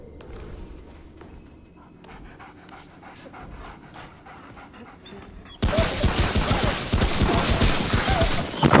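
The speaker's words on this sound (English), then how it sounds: "It's my dog!" A dog in a video game pants and whimpers at close range, then heavy bursts of gunfire cut in and dominate the second half.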